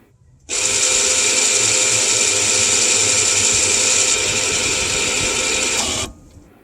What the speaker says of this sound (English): You'll hear the motor working in the back